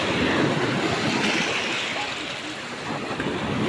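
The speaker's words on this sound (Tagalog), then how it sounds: "makarelax ka ay paminawon ang alon" Waves washing onto a pebble beach in Jagna, Bohol, a steady broad hiss of surf and water with wind noise across the microphone, continuous and fairly loud throughout.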